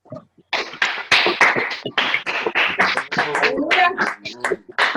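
A congregation in a church applauds, with irregular, dense hand claps rising and falling in loud bursts, and voices mixed among them.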